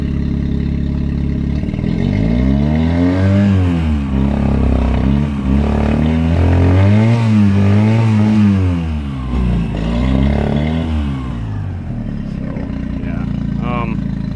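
An engine is given gas and revs up, its droning pitch swelling and falling in several waves over a steady running base, loud and close throughout.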